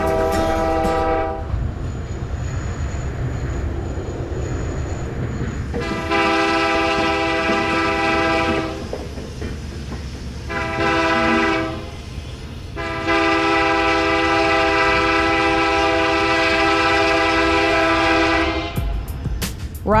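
A Canadian train rolls along the rails near Vancouver, with a steady low rumble under long, loud blasts of the train horn that sound several times, one sustained blast running to the end.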